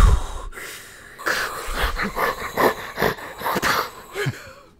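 A person imitates Darth Vader's heavy, rasping mechanical breathing, with a few wheezy inhales and exhales in an uneven rhythm. It is close-up and no one speaks over it.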